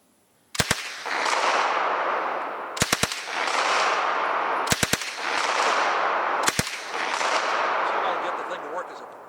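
Belgian M2 Vigneron submachine gun firing full auto outdoors: four short, sharp bursts of a few rapid shots each, spaced about two seconds apart, loud and close, each followed by a long echoing rumble.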